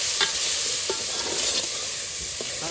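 Tomatoes go into a hot frying pan for a baingan bharta, oil sizzling loudly and steadily while a spoon scrapes and stirs in a few distinct strokes, close up with no talking.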